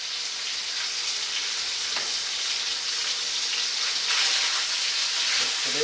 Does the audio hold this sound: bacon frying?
yes